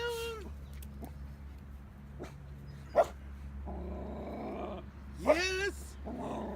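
Dogs on a walk growling and giving a couple of short barks and yips, close by over a steady low hum, with brief human voice sounds in between.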